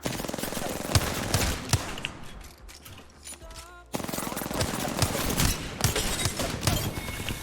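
Gunfire in the video game Apex Legends, with rapid automatic bursts and single shots crackling close and loud, a short lull with a lower tone, then another dense run of shots.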